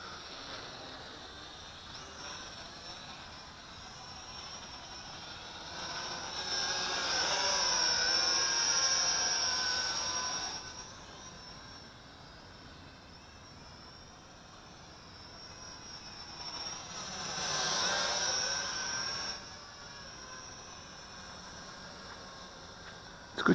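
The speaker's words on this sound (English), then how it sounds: "It's a good quadcopter or hexacopter." A Helicute H806 Hoverdrone Evo hexacopter drone flies with a high, steady whirring buzz that swells twice as it passes nearer and fades between passes, fairly faint and heard alone.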